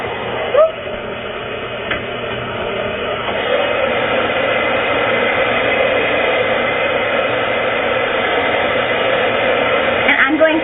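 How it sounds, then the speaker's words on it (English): A handheld hair dryer blows a loud, steady, close rushing roar while hair is dried and wrapped around a round brush, starting softer and then running evenly to the end. "wrap my brush around, and dry"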